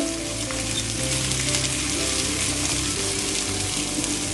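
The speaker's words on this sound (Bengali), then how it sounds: "চালটা আমি আরও ভালো করে একটু নেড়ে চেড়ে ভেজে নিচ্ছি" Rice tossed and fried in a pot for Bangladeshi beef tehari, giving a steady, close sizzle with soft scraping stirs, continuous throughout and no voices.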